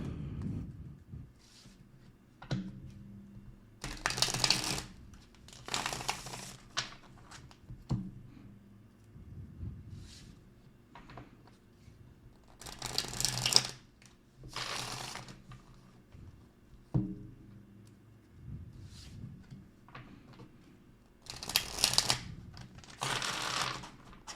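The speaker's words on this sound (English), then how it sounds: "Let me give these a quick shuffle." Tarot cards being shuffled by hand, with several bursts of rapid papery riffling and soft slapping separated by quieter pauses, close and crisp, and no talk over them.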